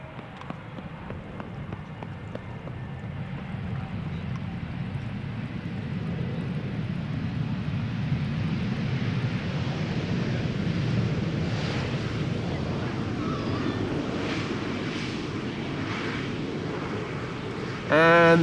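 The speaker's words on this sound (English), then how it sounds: "And Embraer 175 from KLM going to the center runway, arriving from JD's hometown Düsseldorf, KLM flight 1856." A KLM Embraer 175 airliner lands at Amsterdam Schiphol, its broad jet roar building steadily and holding loud and close, with a brief sharp sound at the very end.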